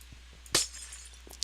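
A single glass-breaking crash from Minecraft, one sharp bright burst followed by a short tinkling tail, fairly clear against a quiet background, with a faint chime near the end.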